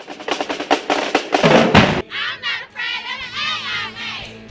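Students at a school event celebrating good grades cheer and shout loudly in a rapid burst of rhythmic chanting, then break into sustained high-pitched yelling and whoops.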